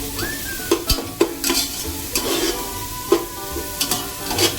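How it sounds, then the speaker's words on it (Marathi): Green masala paste frying in oil in a pan, sautéed until the oil separates, with steady sizzling broken by repeated stirring scrapes and clinks of a spoon against the pan. "हे सर्व कांद्यानंतर आपण तेलामध्ये तेल फुटेपर्यंत हे वाटण परतवून घेणार आहोत"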